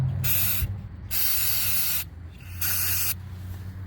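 Three separate hissing bursts of aerosol cleaner sprayed onto the throttle body of a 2011 Chevrolet Equinox, each about a second long, with short quiet gaps between them, close and fairly loud.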